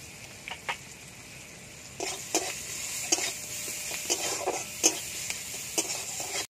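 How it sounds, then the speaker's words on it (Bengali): Chopped onion sizzles in hot oil, a continuous frying hiss broken by repeated scraping and clicking strokes of a spatula against the pan. "কি তেলে দিয়ে দেবো পেঁয়াজ কুচি,"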